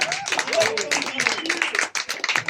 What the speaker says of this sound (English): Give you all a round of applause for being here.